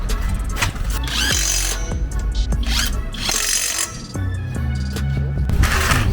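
A Stromo cordless impact wrench tightens a nut, with bursts of rapid mechanical hammering and whirring that start and stop among handling clatter, close and fairly loud, with no clear talk.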